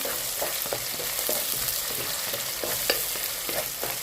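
Green chillies and onions stir-fried in a pan for upma, with a steady soft sizzle broken by repeated scraping stirs of a spatula, close and moderately quiet, no voices.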